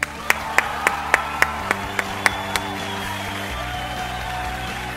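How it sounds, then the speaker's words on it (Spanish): At an online product launch for Entel One, a quick run of about nine sharp, evenly spaced claps rings out, then stops and leaves a fading electronic tone. "Un aplauso,"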